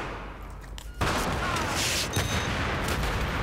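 Grenade blasts and gunfire on a Battlefield 3 multiplayer map, a sudden loud burst after a quieter opening, then dense continuous explosions and shots filling the rest of the clip.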